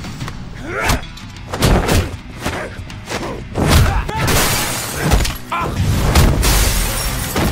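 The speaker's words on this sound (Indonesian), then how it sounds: "Beres baku hantam sengit dan menendang Kang hingga terlempar menembus kaca depan bus" A series of heavy thuds and crashing impacts with bursts of shattering glass as a body crashes through a bus windshield in an action film fight, loud and close, repeating in a chaotic rhythm.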